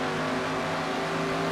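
A race car in a stock car racing game at the Glen roars loudly and close. The engine shifts through the gears with a sustained rising whine and no talk.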